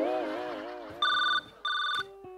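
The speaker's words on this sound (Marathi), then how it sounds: "मॅडम फोन आला तुमचा" A telephone rings in an office scene, two bright electronic ring bursts in quick succession, close and loud, following a wavering tone.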